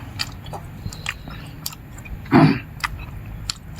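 A single close, loud bite into cooked pork intestine followed by soft chewing and faint mouth sounds, set against a quiet background hum.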